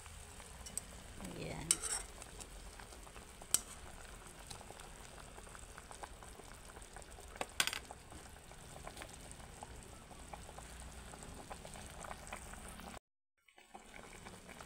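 Sweet potatoes boiling in coconut milk for ginataang kamote, a quiet, steady bubbling simmer with occasional small pops and clinks. A voice says a single brief word, and the sound cuts out near the end.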